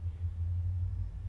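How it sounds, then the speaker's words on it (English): A steady low rumble of a passing train drones on throughout, distant and continuous, with no voices over it. "Sorry about the train."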